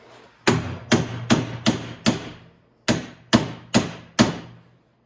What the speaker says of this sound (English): So let's get a hammer, kind of straighten that out a little bit.